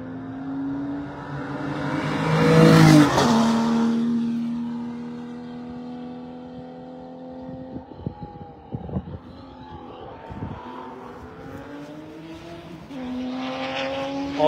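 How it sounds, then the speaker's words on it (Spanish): A Porsche race car in the Carrera Panamericana road race sweeps past loudly around three seconds in, its engine note rising and falling, then fades as quieter engine rumble and other cars continue in the distance. "Ahí viene, ese es un Porsche."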